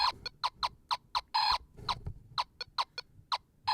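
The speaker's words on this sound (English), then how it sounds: "Those are genuinely electronic chicken sounds." Electronic chicken clucks from a handheld fighting arcade toy, a rapid series of short, bright synthetic squawks in an uneven rhythm, loud and close with no talking.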